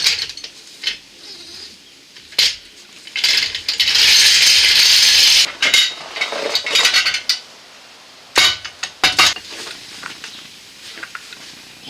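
Ratchet with a 19mm socket working on a 2008–13 Malibu front sway bar link, rapid clicking bursts with a longer whirring stretch, close and fairly loud, separated by quieter pauses.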